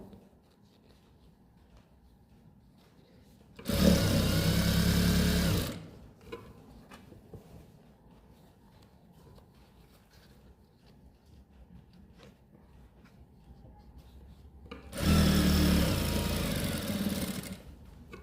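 An electric sewing machine stitches a pocket onto palazzo trousers in two loud bursts of rapid mechanical whirring, each about two seconds long, separated by a long quiet pause.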